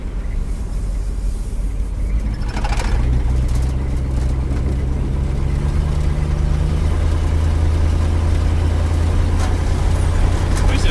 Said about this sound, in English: Well, the car's still running.